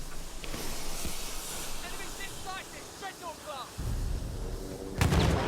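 Battlefield 1 gunfire as a player shoots an enemy near an AA gun, a burst of loud booming shots at the start and a sharp blast near the end, with wind and distant battle noise between.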